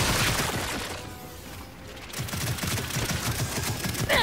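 Rapid gunfire in the video game Gears 5, a dense clatter of repeated shots and impacts that dips briefly and then returns at full loudness.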